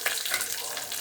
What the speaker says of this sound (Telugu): నేనైతే ఉప్మా టిఫిన్లోకి పల్లీల చట్నీని తాలింపు వేసుకుంటున్నాను.